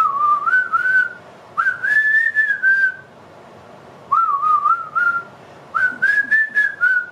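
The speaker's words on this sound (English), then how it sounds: "when I'm watching the music video and I hear the whistling" Whistled melody from a song, four bright sustained phrases with rising, wavering pitch, separated by short pauses, loud and alone over a soft backing of music.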